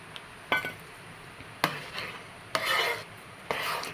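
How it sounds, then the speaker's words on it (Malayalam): A thick jackfruit mixture being stirred continuously in a pan, heard as separate scraping and rubbing strokes of a utensil against the pan, about four sharp rasping pushes spaced roughly a second apart. "കൈയെടുക്കാതെ ഇളക്കിക്കൊണ്ടേയിരിക്കണം"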